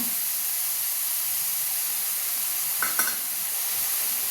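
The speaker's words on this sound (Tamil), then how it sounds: "அடுத்து இஞ்சி பூண்டு போட்டுக்கலாங்க." Ginger and garlic sizzling in a pan of onions, a steady frying hiss throughout with a brief spatter or clink near the end.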